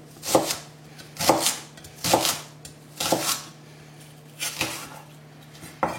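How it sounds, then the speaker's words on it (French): A knife chops a shallot finely on a board, sharp close thuds in an irregular rhythm, about seven strokes spaced roughly a second apart with quiet gaps between. "On va venir hacher l'échalote assez fin"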